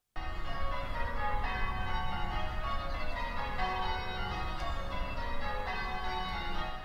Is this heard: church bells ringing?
yes